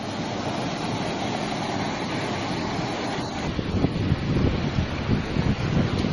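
Strong wind at Chithirai Chavadi Anaicut near Coimbatore roars steadily against the microphone, a loud broad rush with gusty buffeting that swells toward the end.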